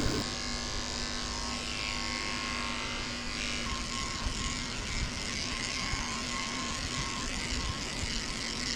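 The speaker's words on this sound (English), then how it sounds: "I'm shaving her a potty path underneath her tail so it stays clean when she goes to the bathroom." Electric dog clippers with a number 4 blade hum steadily and close while shaving a Shih Tzu, a constant buzzing drone that barely changes for the whole stretch.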